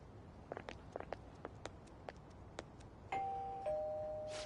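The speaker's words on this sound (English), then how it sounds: "You ring the bell." A doorbell chimes at a house door in the video game Persona 5 Royal, a clear two-tone ding-dong ringing out after a run of soft footsteps and taps, loud and close.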